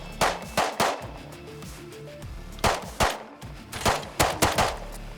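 Shotgun blasts in the survival video game Rust, about a dozen sharp loud reports in uneven bursts and pairs over a low droning game background, with no talking.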